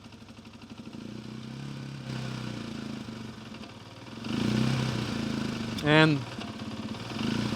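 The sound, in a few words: Janus Halcyon 250 motorcycle engine idling on full choke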